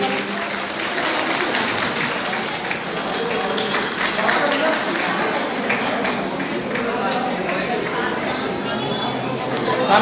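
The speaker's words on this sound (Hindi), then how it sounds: "तालियां बजती रहनी चाहिए।" Sustained crowd applause fills a ceremony, steady clapping mixed with chatter and voices talking throughout.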